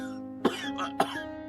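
A man coughs twice in quick succession, short sharp bursts close to the ear over a soft sustained musical background, with no speech.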